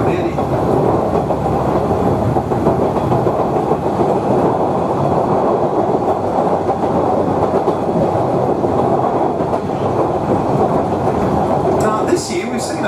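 The Savannahlander train rumbles steadily along the rails between Mareeba and Mutchilba, Queensland, with a constant clattering roar, close and loud, and a brief higher squeal near the end.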